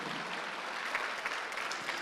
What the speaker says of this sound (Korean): 박수하죠.